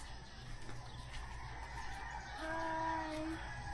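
Chickens cluck and a rooster crows at a highland mountain resort, fairly faint and somewhat distant, with a drawn-out crow rising near the end over a soft ambient background.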